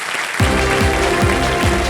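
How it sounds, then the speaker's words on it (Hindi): A studio audience at the Kaun Banega Crorepati quiz show claps in a sustained burst of applause, loud and close, while rhythmic show music plays beneath it. "एक बार फिर तालियों के साथ इनका हम अभिनंदन करते हैं"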